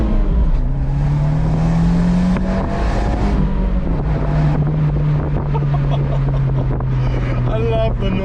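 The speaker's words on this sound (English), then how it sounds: "I love the noise this Monza makes." Abarth 124 Spider fitted with a Monza exhaust droning on the move, engine note rising and falling under heavy wind rush, with a voice speaking over it at points.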